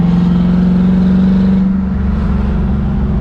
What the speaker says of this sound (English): Pro-charged 1990 Stang. I was trying to say it right before you took off, and then it got so loud so quickly.